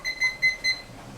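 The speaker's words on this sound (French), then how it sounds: "ce minuteur, je l'ai acheté à Action. Il est super." A kitchen timer alarm bought at Action beeps in a kitchen while vegetables cook, four quick, loud, high-pitched electronic beeps in an even rhythm, then stopping, with no talk.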